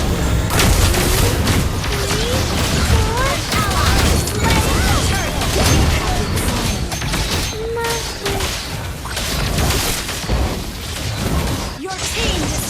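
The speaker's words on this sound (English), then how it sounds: "Your team destroyed a turret." A turret being destroyed in a multiplayer battle video game, with dense, loud booms, crashes and bursts of combat effects running continuously, layered with game announcer voice lines.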